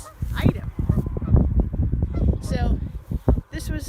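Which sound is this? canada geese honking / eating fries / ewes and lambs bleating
canada geese honking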